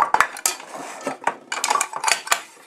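Metal army mess kit pots, a three-part kidney-shaped set, clank and rattle against each other as they are handled up close, giving sharp irregular metallic knocks and scrapes.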